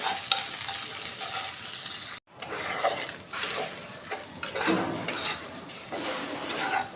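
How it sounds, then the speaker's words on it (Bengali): Sausages sizzle in oil in a wok while being stirred, with clinks of a utensil against the pan; the frying noise cuts out briefly, then resumes with scraping and crackling. "আমার সসগুলো ভাজা হয়ে গেছে"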